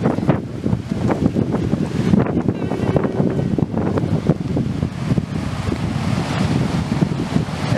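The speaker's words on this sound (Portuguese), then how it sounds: "Agora esse mar daqui é mar pra surfista." Rough, agitated surf-type sea waves churn and crash continuously under steady gusting wind buffeting the microphone, loud and close with no speech.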